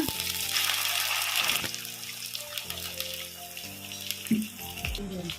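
Chopped tomato and red chili sauce sizzle and hiss in a hot pan while masala Maggi cooks, a steady bright fizz with a few clinks of a spoon against the pan.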